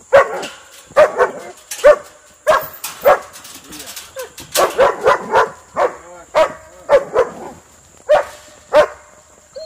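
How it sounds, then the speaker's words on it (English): A farm dog barks repeatedly at pigs by a gate, sharp close barks and yips in quick uneven bursts throughout, with a few short pauses between. "she waits until as soon as I unlatch the gate, she barks every single time."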